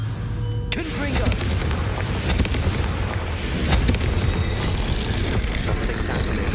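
A fiery blast spell goes off in the Hogwarts Legacy game, a loud booming explosion with rumbling debris and crackle that fills the whole stretch, heavy and continuous after a sudden onset.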